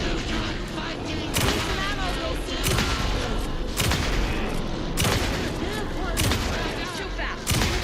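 Rapid bursts of gunfire from the Alan Wake II video game on PS5 crack out repeatedly in loud, evenly spaced volleys, layered over a dense wash of game sound effects and music.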